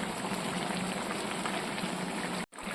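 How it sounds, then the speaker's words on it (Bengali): Mixed vegetables for a labra curry boil in water in a pot, making a steady, close, rolling bubbling that runs unbroken before a brief cutoff near the end. "সবজি সেদ্ধ হওয়া পর্যন্ত অপেক্ষা করে নেব।"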